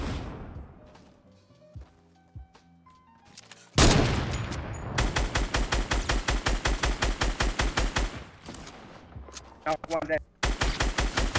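Gunfire in Fortnite: Battle Royale, with a single early shot, then long rapid automatic bursts of loud, evenly spaced cracks broken by brief pauses, with a player's voice speaking briefly over the fire.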